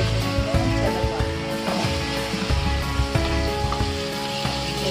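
Squash is tipped into a pan of browned garlic sizzling in oil, giving a loud, steady frying hiss broken by clattering thumps as the pieces land and shift. No voices.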